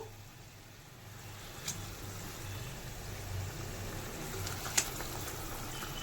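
Fish curry simmers in a pan with a soft, steady bubbling hiss and a couple of faint clicks.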